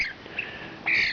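Rescued pet bird giving short, harsh squawks close by, with a louder call at the end.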